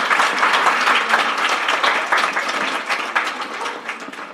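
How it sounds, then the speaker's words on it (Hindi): Steady, dense audience applause after a lecture, many hands clapping at an even level throughout with no voices over it. "तो संदीप भाई के लिए एक बार फिर से तालियां बजाइए।"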